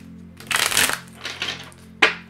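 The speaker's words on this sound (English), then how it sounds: "Let's get one more shuffle." Tarot cards being shuffled by hand, a few quick riffling bursts followed by a sharp final tap, close and fairly quiet.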